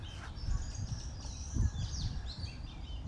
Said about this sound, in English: there's a bird over there